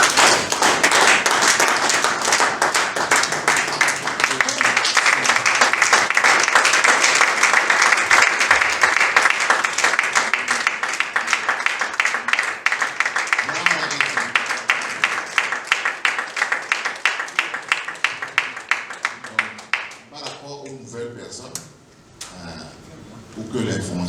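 A church congregation applauds and cheers at a Full Gospel service in Togo, a long dense burst of clapping that stays loud, mixed with voices, then thins out near the end.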